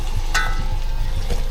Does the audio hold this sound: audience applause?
no